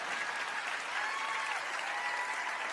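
An audience applauds a magic performance at a talent show with a dense, steady clatter of clapping hands, moderately distant and continuous throughout.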